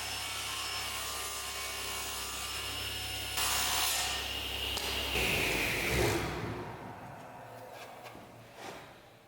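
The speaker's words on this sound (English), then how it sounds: "even fine sanding with 240 grit can slightly change the dimensions" Fine 240 grit sandpaper rubbing over a wooden watch box piece, a soft continuous scratchy hiss that swells briefly midway, then fades out.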